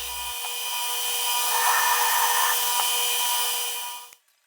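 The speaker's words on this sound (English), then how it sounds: "and now I'm grinding it" A power grinder works a bent steel sword guard with a sustained high whine and grinding hiss that holds steady for about four seconds, then cuts off abruptly, loud and close.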